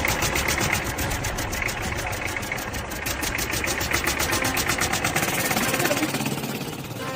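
A new motorcycle's engine runs steadily at idle, a dense mid-pitched mechanical thrum with a rapid ticking pulse that holds even and close throughout.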